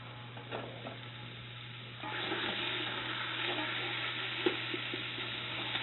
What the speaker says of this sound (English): just get a little caramelization on the pork